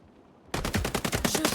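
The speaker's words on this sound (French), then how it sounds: "Tire sur nos ennemis." Rapid automatic gunfire in the shooter game Highguard, bursting in suddenly after a quiet moment and continuing as loud, dense, rhythmic volleys of shots.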